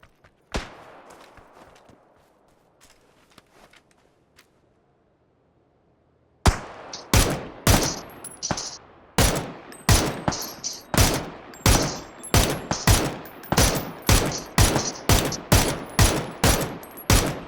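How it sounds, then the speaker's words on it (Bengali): Gunfire from the video game PUBG: a few faint early shots, then a quiet gap, then loud, close, rapid single shots fired in a steady rhythm, roughly two per second, for about eleven seconds. "ও গুলি করলো লাগলো।"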